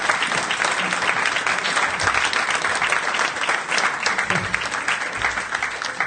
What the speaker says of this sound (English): Maybe applause for